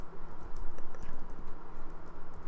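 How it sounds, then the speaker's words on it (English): Typing on a computer keyboard while writing simple program code, with rapid uneven key clicks running continuously over a low steady background hum, fairly close and alone without talk. "I've got no idea what I'm typing here"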